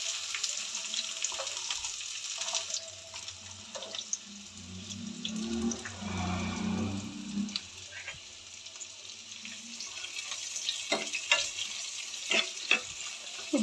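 Onion sizzling in a mustard seed and cumin tempering for sprouted horse gram sambar, a soft steady fry with stirring clinks and small pops, close and quiet, no voices.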